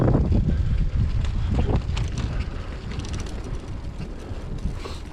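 Steady wind roars and buffets the microphone while cycling a coastal road in Cork, Ireland, with a tailwind pushing the bike; continuous and loud, with no talking.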